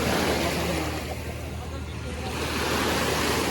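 Steady roar of rough sea waves washing onto a seaweed-strewn shore on Avşa Island, with a rushing swell that rises and falls, close by and loud, with wind buffeting the microphone.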